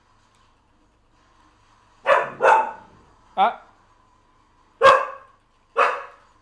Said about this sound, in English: Dog is super loud.